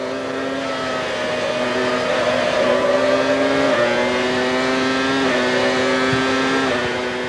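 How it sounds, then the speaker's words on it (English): Formula 1 cars racing in the 1996 season, a Williams overtaking a Ferrari round the outside of a long right-hander: high, steady engine howls that shift pitch repeatedly as the cars pass, loud and continuous with no voices. "Villeneuve is climbing all over Schumacher's tail before passing the Ferrari the hard way, right round the outside of the long right-hander before the pit straight"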